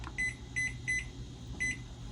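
A digital kitchen timer being set for a sourdough bake gives four short, high beeps. The first three come in quick succession and the fourth follows after a pause, over a low steady room hum.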